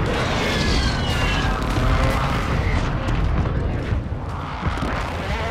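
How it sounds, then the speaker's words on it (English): In Call of Duty: Modern Warfare II, airstrike explosions roll in a dense, loud barrage of overlapping booms and rumbling blasts that fade slightly toward the end. "I got airstrike"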